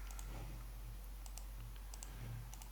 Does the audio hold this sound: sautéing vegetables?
no